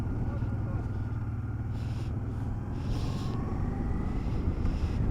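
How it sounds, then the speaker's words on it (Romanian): Strong wind buffeting the microphone during an off-road ride on a Honda Transalp motorcycle in the mountains, a continuous low roar and rumble that stays loud and steady throughout, with brief bursts of hiss. "Mamă, ce bate vântul iară."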